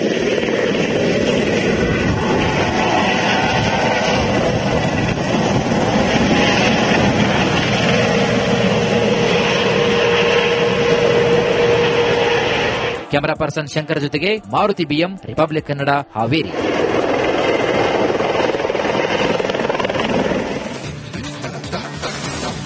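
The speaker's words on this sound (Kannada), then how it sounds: "ನಮ್ಮೂರು ಜಾತ್ರೆಯಲ್ಲಿ ಹೆಲಿಕಾಪ್ಟರ್ ರೈಡ್ ಮಾಡುವ ಮೂಲಕ ನಗರದ ಸುಂದರ ದೃಶ್ಯಗಳನ್ನ ಕಣ್ತುಂಬಿಕೊಳ್ತಾ ಇದ್ದಾರೆ" A helicopter giving joyrides at the Hukkeri Mutt village fair in Haveri drones steadily and loudly in the background, a continuous engine and rotor roar running under a voice throughout, briefly choppier near the middle.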